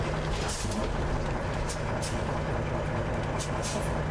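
A Peterbilt 379 truck rumbles nearby with several short, sharp hisses of air brakes releasing at intervals over the engine noise.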